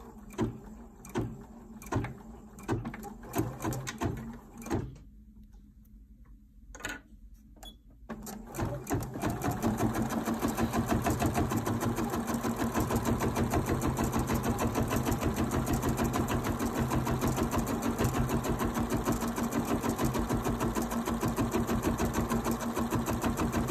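A Bernina 790 sewing machine stitches appliqué with purple thread. A few short bursts and a pause lead into a long, steady, rapid mechanical whirr close by.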